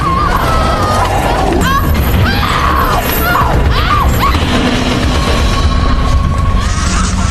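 A woman screams in a scene from a psychopath horror film, her rising and falling cries cutting through a loud, dense backdrop of crashing and thudding noise.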